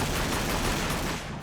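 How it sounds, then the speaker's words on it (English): Dense, sustained gunfire from a battle in Warhammer 40,000: Battlesector, a loud continuous volley of game weapons that dips slightly near the end, with no voices. "They're shooting at me!"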